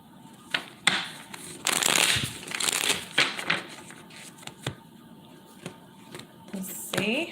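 Tarot cards are shuffled in several riffling bursts, crisp ruffles and slaps close up, with pauses between and a little quiet talking.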